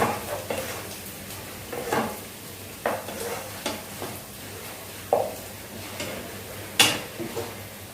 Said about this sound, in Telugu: సో ఇక్కడ ఆనియన్స్ ఫ్రై అవుతుంది చూసారా, ఇలా ఫ్రై అవ్వాలి